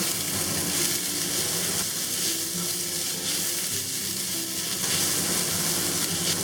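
Ginger, garlic and preserved mustard frying in oil in a wok for Cantonese steamed pork belly produce a loud, steady hiss and sizzle, constant and close, with no talking.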